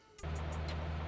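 A vehicle in the mobile battle royale game PUBG Mobile rumbles with a steady low engine drone that starts abruptly and holds evenly, fairly close, with no speech over it.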